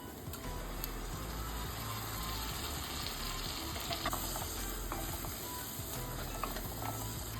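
Finely chopped tomato, one large tomato's worth, sizzles in a frying pan with oil, giving a loud continuous hiss and crackle broken by occasional scraping stirs.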